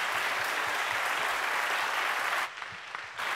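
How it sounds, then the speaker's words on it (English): Hearty audience applause at a community discussion on Martha's Vineyard, a thick, continuous roar of clapping from a crowd, loud and steady before thinning abruptly near the end. "if you make the applause hearty but briefer"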